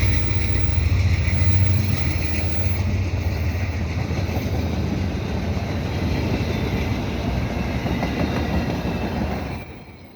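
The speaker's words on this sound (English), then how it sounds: "Oh, it's a Via train." A Via Rail passenger train rumbles past close by, a steady loud roar of wheels and rail noise that holds for about nine seconds before cutting off sharply.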